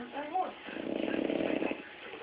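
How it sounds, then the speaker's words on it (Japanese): A French bulldog snores while asleep, a single long rumbling snore of moderate loudness heard close up, with a soft voice talking briefly beforehand. "いびきかいてます。"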